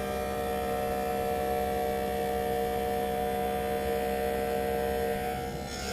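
A lens edger machine cuts an eyeglass lens, producing a steady, unbroken mechanical hum with layered tonal whine that holds level for several seconds without any voices.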